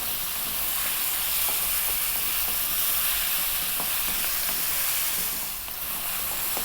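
Pumpkin with chili powder and cumin fries in a hot pan with a loud, steady sizzle, while light scraping stirs tick through it and the hiss dips slightly toward the end.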